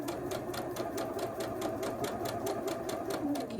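Sewing machine stitching a scant quarter-inch seam on a quilt block, a steady fast needle rhythm of even repeated clicks running continuously at close range with no voices.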